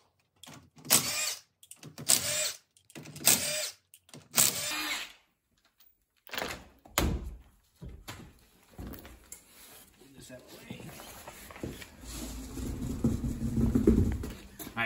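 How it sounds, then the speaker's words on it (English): Removing the rear wheel of a 2009 Ford Escape on a jack stand with a 19mm socket: someone talks in bursts, then ratcheting and metallic clanks of lug nuts loosening follow, with a rising mechanical whir at the end. "the 19mm socket we're going to use to remove the wheel"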